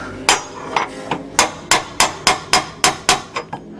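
Hammer striking a part bolted to a car chassis: about a dozen sharp metallic blows in a steady, slightly quickening rhythm, close and loud, each with a short ringing decay.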